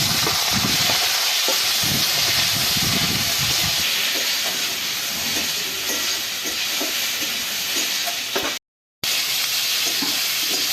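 Panch phoron, green chillies, bay leaf and chopped tomato dropped into hot oil for a Bengali fish ambal, a loud close steam-heavy sizzle and hiss with clattering stirring, a short silent break, then continued hissing.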